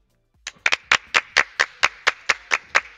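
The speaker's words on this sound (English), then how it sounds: "Big round of applause for Tsai." Rhythmic clapping at an amateur overclocking competition semi-final, about a dozen sharp, evenly spaced claps that begin after a short silence, close and distinct with no voices.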